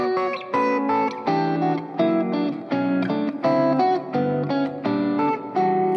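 Electric guitar plays a melody moving from its first part into its second, a steady run of clear sustained notes without pauses, loud and alone with no talking.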